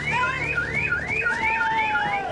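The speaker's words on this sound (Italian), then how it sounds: "Gemini, il primo allarme che lancia l'allarme via telefono" A Gemini anti-theft alarm wails in a rising and falling siren cycle, loud and continuous, with no voices over it.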